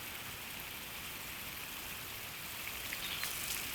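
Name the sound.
early summer rain shower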